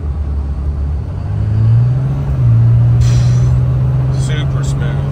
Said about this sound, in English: We'll give it some accelerator, let it drop a gear down.